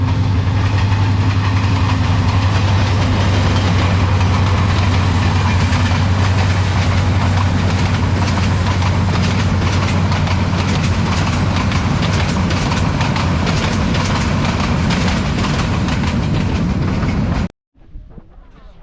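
A train running along the bank of a pond on a foggy morning, a loud, steady close rumble with rhythmic clickety-clack of the wheels that cuts off abruptly near the end.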